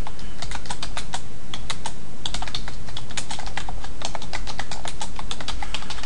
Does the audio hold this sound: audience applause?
no